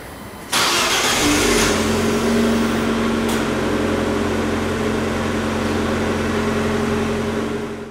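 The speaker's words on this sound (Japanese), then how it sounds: "力強いサウンドもお楽しみいただけるモデルです。" A 2015 Abarth 595C Turismo with a 1.4-litre inline-four turbo engine and Abarth tuning cranks briefly, fires up with a loud burst, then settles into a steady, throaty idle close by.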